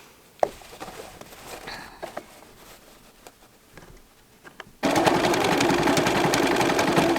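A domestic sewing machine runs steadily, stitching a bar tack on a pair of pants. Quiet handling clicks and rustles come first, then the motor and needle start abruptly and whir on at an even, loud rate.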